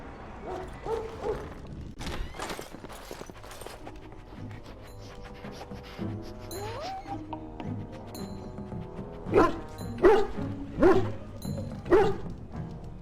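A dog in Dragon Age: Origins barks repeatedly among background music, the barks growing louder and more insistent toward the end, with occasional yips and a thud.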